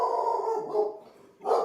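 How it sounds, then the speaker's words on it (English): A pet dog barks at home while someone works from there: one drawn-out, whining bark close to the microphone, then a brief pause and a second sharp bark, with no talking. "Sorry about my dog."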